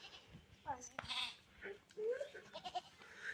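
Goats bleat at a village farm where cattle and sheep are also kept: several wavering, nasal calls, some overlapping, stand out fairly close over a murmuring outdoor background.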